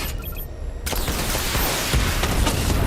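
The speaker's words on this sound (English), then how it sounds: "Charge up missile barrage to level 2 and destroy 4 active targets to complete diagnostic test." Dense, continuous missile barrage fire from Batman: Arkham City, a rapid volley of explosive bursts that kicks in after a quieter opening and stays loud and sustained to the end.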